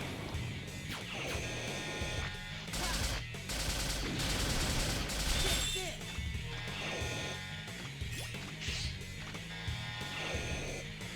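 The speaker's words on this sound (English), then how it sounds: "now we're taking up some room here with exploding platforms." Mega Man X8 platforms blowing up in a run of loud, dense bursts, with a heavier stretch of blasts in the middle, set against steady game music and effects.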